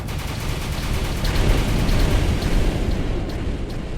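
A video-game AK rifle that fires rockets sounds out as a dense, continuous roar of blasts and booms, loud and low-heavy, with a faint rhythmic crackle running through it.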